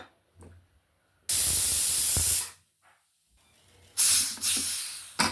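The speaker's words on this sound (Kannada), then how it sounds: "ವಿಸಿಲ್ ಆಗಿದೆ ಗ್ಯಾಸ್ ತೆಗೆಯೋಣ" A pressure cooker holding mixed leafy greens vents steam in two loud, harsh hissing bursts, the first about a second long and the second shorter and fading, separated by near silence and faint kitchen clatter.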